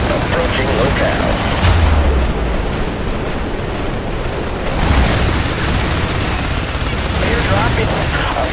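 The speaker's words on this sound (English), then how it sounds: "Artillery support." Heavy artillery barrage from the IS Defense harbor level, a dense, continuous rumble of booming impacts and gunfire that stays loud and unbroken throughout.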